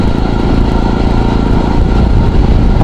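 A motorcycle ridden along the NH66 Mumbai–Goa highway in traffic gives a steady, loud engine drone with wind and road rumble, continuous and close throughout, with no talking.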